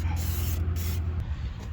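A spray can aimed at a seed meter part on an 8-row John Deere 1700 Max Emerge Plus planter, giving a steady close hiss over a low hum, with short bursts starting and stopping.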